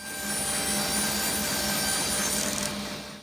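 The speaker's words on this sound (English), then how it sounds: "The first thing to do was to trim off one edge of the boards and then cut them to width." Wooden boards ripped to width with a power saw in a home workshop, a steady loud whining cut lasting a few seconds and dying away at the end.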